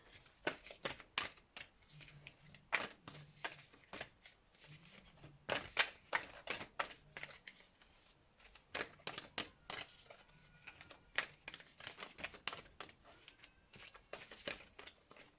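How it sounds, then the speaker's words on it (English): A large deck of cards is shuffled over and over, giving repeated crisp riffles and soft slaps in an uneven rhythm, close by and fairly quiet. "I really need to find a new way to shuffle this deck"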